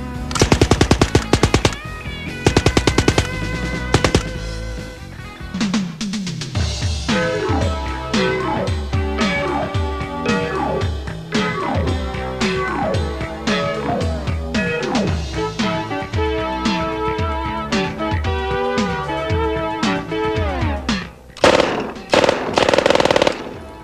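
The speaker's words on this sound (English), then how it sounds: "It will fire at a rate of 550 rounds per minute from the 32-round box magazine" An Ingram MAC-10 submachine gun fires full-auto at about 550 rounds per minute from a 32-round box magazine, with loud rapid bursts close by that continue with short pauses over a long stretch of sustained shooting.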